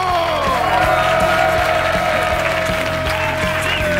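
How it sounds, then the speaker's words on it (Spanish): Steady, loud studio audience applause fills the whole stretch, dense clapping with some cheering from a crowd at a Spanish comedy show taping. "Y un fuerte aplauso para David Broncano."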